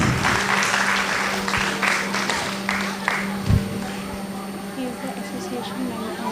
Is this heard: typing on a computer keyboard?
no